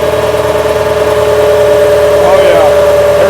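Diesel turbocharged New Holland TL-90 tractor engine running hard under load with the fuel turned up, a loud steady droning hum with a faint shift in pitch midway, a voice speaking over it.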